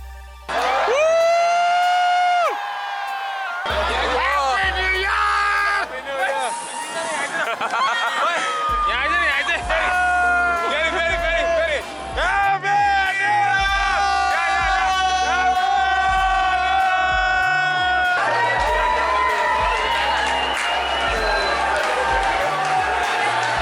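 At a New Year countdown by the Eiffel Tower in Paris, a large crowd cheers loudly and continuously. Shrill whistles and siren-like wails rise and fall over the crowd noise.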